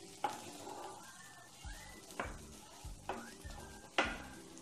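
Onions frying lightly in ghee in a pan give off a soft, steady sizzle, broken by several sharp clinks and scrapes of stirring, all close and quiet with no talking.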